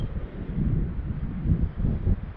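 Cold wind blowing outdoors on a foggy mountain morning, a continuous low gusty rush buffeting the microphone with gentle swells, no voices.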